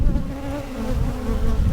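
Honey bees in flight buzz around a bee yard, a close, continuous droning hum that swells and dips as many insects pass, with no talk.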